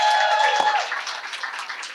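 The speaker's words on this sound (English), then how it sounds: "Oh, you can clap." Ceremony audience applause at a university presidential charge event, a brief burst of clapping that fades gradually through the room, with a faint tonal hum at the start.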